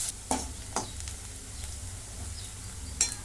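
Onion frying in a pan until reddish: a soft continuous sizzle punctuated by a few sharp spatula scrapes, near and alone without speech.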